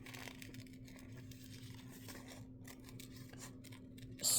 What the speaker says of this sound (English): I'll fussy cut this little image here